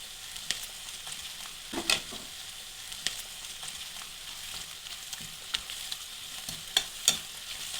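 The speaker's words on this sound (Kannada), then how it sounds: "ಈರುಳ್ಳಿ ಸ್ವಲ್ಪ ಬ್ರೌನ್ ಶೇಪಿಗೆ ಬಂದ, ಜಾಸ್ತಿ ವೈಟ್ ಆಗಿರಬಾರ್ದು, ಆ ಥರ ಸ್ವಲ್ಪ ಫ್ರೈ ಮಾಡ್ಕೊಳ್ಳೋಣ." Onions frying in a pan until lightly browned, a steady close sizzle with scattered spatula scrapes and stirring clicks throughout.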